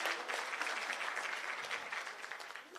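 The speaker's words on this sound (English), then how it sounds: "A round of applause to the ladies." A crowd at a women's day celebration conference claps steadily and evenly throughout, moderately quiet and without voices over it.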